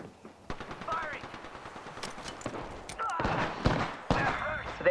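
Wingman pistol fire rings out in Apex Legends-style gameplay as rapid, loud shots mixed with game effects, and a voice speaks over the action.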